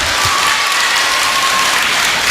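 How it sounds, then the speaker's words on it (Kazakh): Loud, dense applause from a crowd at a circumcision celebration, many hands clapping steadily and closely without letting up, forming a continuous roar of claps. "Бақырма, құр шапалақ."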